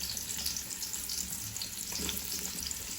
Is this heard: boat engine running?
no